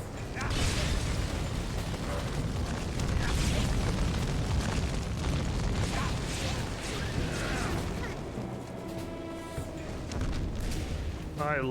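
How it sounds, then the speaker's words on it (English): An exploding cannon in the video game Folklore, heavy booming blasts and mechanical rumble layered densely for most of the stretch, easing into quieter clanks and a ringing tone toward the end. "It's a cannon that explodes."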